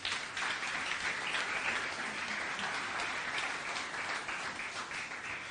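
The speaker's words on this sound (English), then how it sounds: "That I think that deserves an applause." Audience applause at a women's business accelerator demo day fills the room, a continuous, fairly distant wash of many hands clapping that holds steady throughout.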